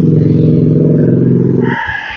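Cars on a busy road produce a loud, steady low engine rumble that dominates for most of the stretch, then drops away abruptly, leaving quieter, higher traffic noise.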